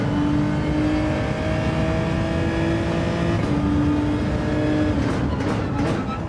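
Engine of a race car in Gran Turismo 7 revving hard under manual shifting, its steady loud drone dropping in pitch with gear changes, a dense continuous roar throughout.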